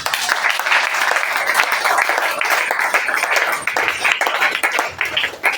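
A church congregation applauds and claps in praise during a French-language worship service, a steady dense wash of many hands that fills the whole stretch without letup, with no talk over it.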